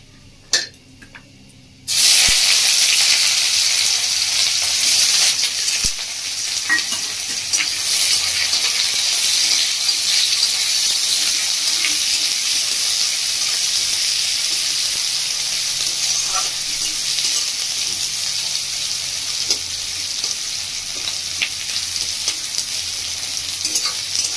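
Loud, sudden sizzle as chopped onion hits hot oil after a quiet start, then a steady crackling fry continuing throughout.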